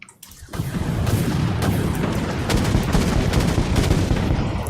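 In the spaceship combat game Dreadnaught, missiles strike in a dense, continuous barrage of heavy booming impacts. The loud explosions run together as rumbling fire after a brief quiet start.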